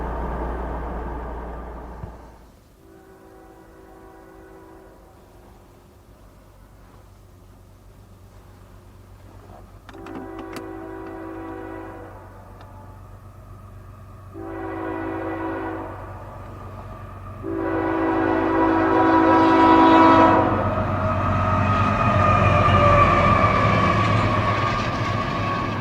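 A train rumbles past through heavy snow while its horn blows in a series of long blasts, growing louder and fuller toward the end as the locomotive nears.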